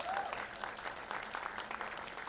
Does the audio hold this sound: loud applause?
yes